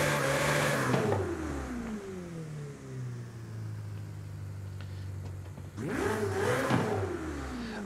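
A 2014 Ferrari California T's 3.9 V8 in Forza Horizon 5 fires up and settles into a loud, close idle, then blips sharply into a screaming rev near the end.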